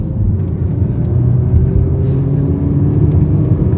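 A Honda Civic FC 1.8 fitted with an HKS exhaust system gives a steady, mild engine rumble close by, idling or cruising with no strong revving and no speech.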